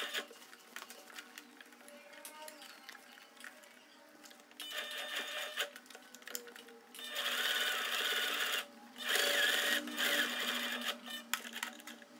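Sewing machine stitching in a new zipper on dress trousers, a steady mechanical whir that runs in short bursts and grows louder in longer runs toward the end, close and alone with no talking.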